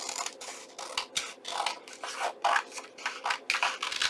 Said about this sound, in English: I'm going to take my scissors, and I'm simply going to cut this